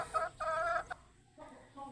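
Chicken clucking indoors in a house, a few short harmonic cluck bursts close by, then a pause and softer clucks.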